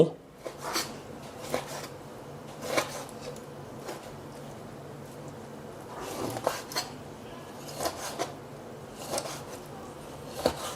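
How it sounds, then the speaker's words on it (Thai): Intermittent sharp knife strikes on a cutting board chopping pork cartilage, irregular chops and scrapes spaced a second or so apart, with someone talking quietly between them. "ทีนี้ก็มาหั่นกระดูกอ่อนนะครับ"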